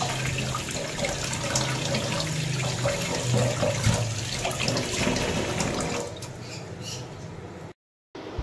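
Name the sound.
water running while washing fish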